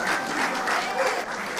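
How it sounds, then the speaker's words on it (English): Audience applause at a startup cohort demo day, a steady dense wash of clapping sustained for the whole stretch with a faint voice underneath. "A round of applause for them, please"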